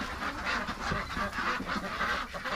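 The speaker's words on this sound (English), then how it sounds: "there's a whole bunch of ducks in here" A whole flock of free-range ducks crowded inside a pen during extreme-weather lockdown, quacking and honking continuously in overlapping calls, close and fairly loud, with no talk over them.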